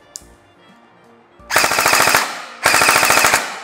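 Lehui SIG MCX gel blaster running on an 11-volt battery, firing two loud, rapid full-auto bursts of about a second each, preceded by a faint click and quiet handling.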